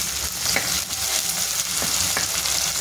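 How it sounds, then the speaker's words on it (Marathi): Tomatoes and onions sautéing in a pan for chole masala hiss with a steady, close sizzle, broken by occasional soft stirring taps. "ह्याच्यामध्ये टोमॅटो टाकून घेते आणि ते पण छान परतून घेते"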